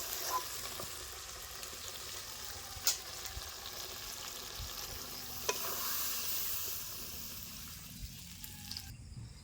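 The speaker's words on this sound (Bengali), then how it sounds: "এখন আমি মাংসগুলিকে ভালো করে কষিয়ে নেব।" Goat meat sautéed in a pan, a soft continuous sizzle with occasional clinks and scrapes of a spoon stirring, close but quiet, with a faint running-water sound near the end and no speech.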